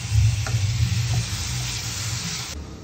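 Onions, tomato and capsicum sizzle briskly in a pan, a close, steady frying hiss with a few light stirring clicks and no voices.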